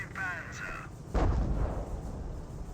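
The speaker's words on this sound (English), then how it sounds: "To be honest, that is a reasonable spot to barrage." An artillery shell lands in a Company of Heroes match, a single deep boom with a rumbling tail that follows a short whistling tone, loud and close.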